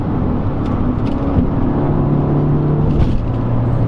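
A big-turbo Audi S3 built by Atomic Motorsports pulls hard in fifth gear on a road, giving a steady, loud engine drone with rising rumble and no one talking.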